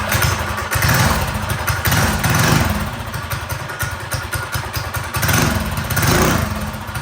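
Predator 212 engine on a Coleman BT200X minibike running after repairs, a steady close engine drone with rhythmic swells and clattery thumps throughout, no talking.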